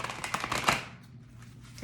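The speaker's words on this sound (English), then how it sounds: "I'll go ahead and give this another quick shuffle" A deck of oracle cards is given a quick shuffle, a rapid papery riffle of flicking cards up close, then trailing off into a soft, quiet rustle.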